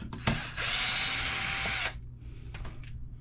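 A power drill whirs for just over a second backing out aluminum screws during an R1 Wurks drag bike build, preceded by a sharp click and followed by faint handling clatter, close and loud.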